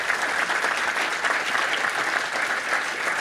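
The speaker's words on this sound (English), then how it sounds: "Can we please give them another round of applause?" Audience applause at a live Boston event, dense and steady clapping from a large crowd that holds at an even level for its whole length.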